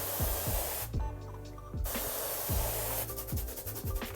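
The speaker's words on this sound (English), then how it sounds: "Let's spray a little bit on and see how much water it takes to be able to get the clay off." A spray bottle mists water onto dried clay in short hissing bursts, three or four close squirts separated by brief pauses, with a low rubbing and handling noise underneath.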